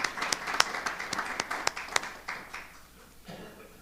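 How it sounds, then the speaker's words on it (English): Applause from attendees at a Board of Education meeting, a burst of sharp individual claps that thins out and fades to quiet room tone. "Let's give her a round of applause."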